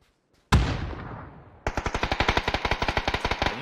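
Rapid automatic gunfire in the battle royale game PUBG: a single loud blast, then a fast, steady burst of evenly spaced shots ringing out close and loud with no talking.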